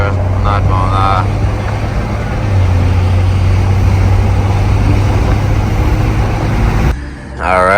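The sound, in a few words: BMW M240i turbo spool with catless downpipe exhaust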